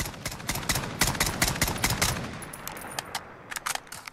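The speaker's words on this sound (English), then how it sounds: "So I'm just going to let this rip all 10 rounds and we'll look at the recoil pattern on the weapon." SKS rifle fired in Call of Duty Modern Warfare, a rapid string of sharp close gunshots with ragged, slightly uneven spacing that thins out toward the end, with no voices.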